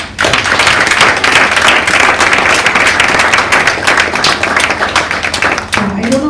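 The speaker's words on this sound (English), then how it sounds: "I think they need a bigger applause." Audience applause at a Handloom Day celebration conference for students wearing handloom, a loud, dense wash of clapping sustained throughout, with scattered sharper claps standing out.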